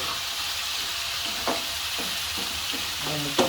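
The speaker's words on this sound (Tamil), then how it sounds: "எல்லாத்தையும் போட்டு நல்லா பெரட்ட போகிறாரு." Carrot, cabbage, capsicum and onion are stir-fried in a pan, giving a steady sizzle with repeated scraping strokes of the spatula. No one speaks.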